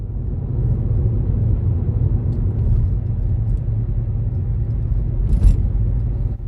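A car cruising on the road into Spearfish Canyon in the Black Hills of South Dakota, heard from inside as a steady low engine and road rumble with a faint rattle midway.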